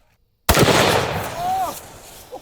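A single loud, concussive shot from a compact 300 Win Mag rifle cracks sharply after a brief silence, then a long rumbling echo fades outdoors, with a short human exclamation near the end.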